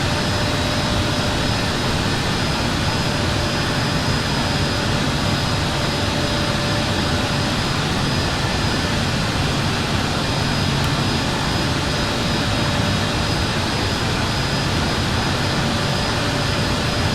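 An airBaltic Airbus A220-300 in a flight simulator roars at takeoff power, its jet engines holding a loud, steady broadband rush without a break for the full stretch.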